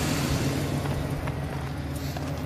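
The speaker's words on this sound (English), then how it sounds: "This engine runs well." A 2007 Chevy Silverado 2500 pickup engine with 310,000 miles idles with a low, even rumble, running continuously without change in pace or loudness.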